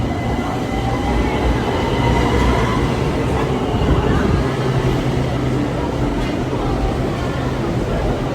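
Metro train pulling into a Bangkok station platform, a loud continuous rumble of wheels on rails with squealing tones and faint clicking, close by and steady throughout.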